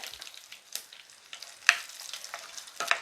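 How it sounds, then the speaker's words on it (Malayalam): Mustard seeds and dried red chillies crackle and sizzle in hot oil in a home kitchen while making a thoran, heard as faint, close, irregular pops and spitting with no talk. "കുറച്ച് എണ്ണ ഒഴിച്ച് ഇനി നമുക്ക് കടുക് ഇട്ട് കൊടുക്കണം ഇതാ രണ്ട് വറ്റൽമുളക് നമുക്കിടാവേ"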